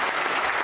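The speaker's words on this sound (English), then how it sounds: "that deserves a round of applause" A short burst of dense applause from a crowd, steady and fairly loud for under a second.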